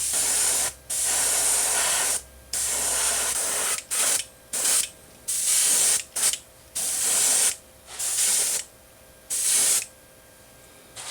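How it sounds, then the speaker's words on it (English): Repeated bursts of an airbrush spraying yellow paint onto a crankbait fishing lure body, a sharp steady hiss in short and longer pulses separated by brief silences. "I'm going to spray the bottom yellow and let it overspray halfway up the body."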